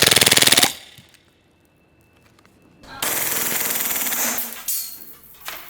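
A Lancer Tactical Cthulhu green gas airsoft pistol fires full auto in sharp, rapid bursts, close and loud, with a short quiet gap between the strings of shots.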